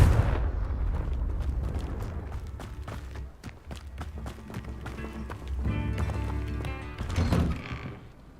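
Spell effects from Hogwarts Legacy, the Confringo fire spell bursting amid a rapid string of sharp magical cracks and impacts over a steady game soundscape, loud and busy, with no voices.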